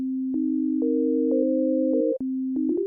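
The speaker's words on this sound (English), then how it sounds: "So if I have this set all the way to the left to one partial, we're just going to hear a sine wave." Steady, pure sine-wave tones from a software synthesizer set to one partial hold and shift between a few pitches, with brief clicks at each change and no voices.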